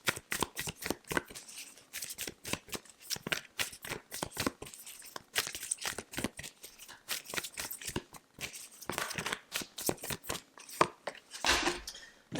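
Tarot cards are shuffled by hand in quick riffling and sliding bursts, soft and close, with brief pauses between passes and no talking.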